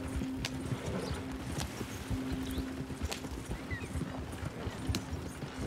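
Steady clip-clop of horse hooves in Red Dead Redemption 2, a continuous rhythmic trot at moderate volume over low background ambience.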